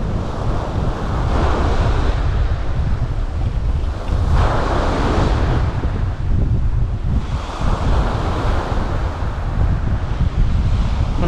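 Strong onshore wind buffets the microphone at a seashore fishing spot while waves surge and break in repeated loud swells, a continuous roar with no talking.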